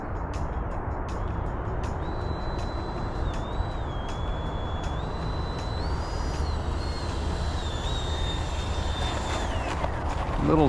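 A steady, high-pitched electric whine from an FMS Rafale 80mm electric ducted fan RC jet in flight rises and falls in pitch over a constant rushing roar of wind and noise.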